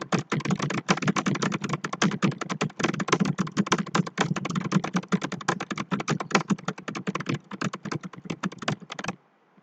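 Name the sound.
typing on a computer keyboard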